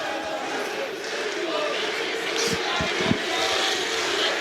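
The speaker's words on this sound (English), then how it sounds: "Calling for knees in the arena." Arena crowd at an OKTAGON 32 MMA fight roars and chants for knees, a loud, steady wall of noise with a few dull thumps, running under a commentator's voice.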